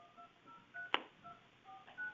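Telephone keypad tones beep one after another at an even pace, faint and close, with a sharp click midway, as a number is dialed during a board of assessment appeals meeting; no one speaks.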